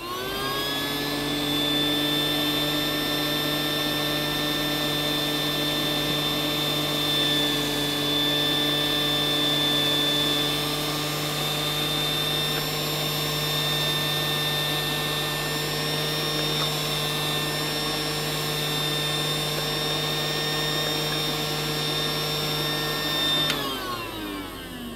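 A steady electric motor of a Casdon Henry toy vacuum cleaner whirs continuously with a high-pitched whine, loud and close, then winds down at the very end.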